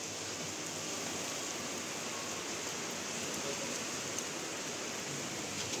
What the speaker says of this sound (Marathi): पाऊस पडायला चालू झालेला आहे